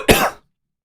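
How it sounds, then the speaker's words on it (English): A single short, sharp cough from a person, close and loud, followed by silence. "I got this cough"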